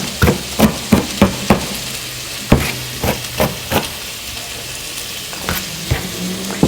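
Vegetables for red pepper soup, including onion, saute in a pan with a steady close sizzle. Sharp spoon-on-pan knocks come in uneven bursts over it, and no one speaks.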